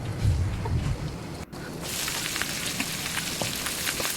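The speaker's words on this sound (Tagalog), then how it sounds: "So, after ani, ako sani siyang biyaan para medyo maprito-prito." Pork pieces frying with potatoes in a pan for kaldereta, a steady, close sizzle and crackle that briefly dips at about a second and a half, then returns brighter and denser with scattered pops, no voices.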